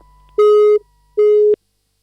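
Telephone busy signal on a radio call-in line after the caller drops, two loud steady beeps with a pause between, alone with no talk.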